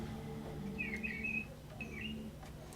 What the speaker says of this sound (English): And just remember, Michelle, when you hear the birds, it's probably telling you that you're getting a little sleepy.